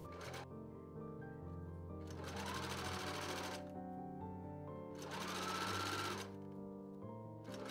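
A sewing machine stitches the back pieces of a vintage stage ghost costume together, running in two long bursts with a short pause between them, a close mechanical rattle over a low background hum.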